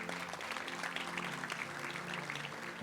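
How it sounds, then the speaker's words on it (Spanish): A church congregation applauds at a youth service, a steady wash of clapping held at an even level for about three seconds, fairly distant and with no one speaking over it. "¿Le puede dar un aplauso a Dios por eso?"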